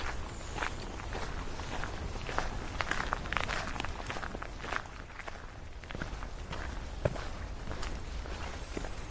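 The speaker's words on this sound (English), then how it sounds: "you may have noticed how my footsteps are not so loud or scratchy anymore. That's because I'm off the main forestry track" Footsteps tread steadily over soft forest ground off a main forestry track on a September walk, a continuous quiet rustle and crunch of regular steps, with no talk.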